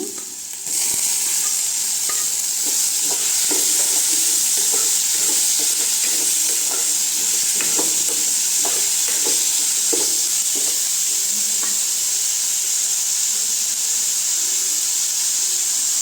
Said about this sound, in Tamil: நல்லா பச்சை வாசனை போகிற அளவுக்கு வதக்கலாங்க இப்போ ஈரல் சேர்த்துக்கலாங்க